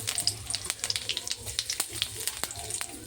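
Cumin seeds sizzle in hot oil with quick crackles and sharp spattering pops, close by and fairly quiet.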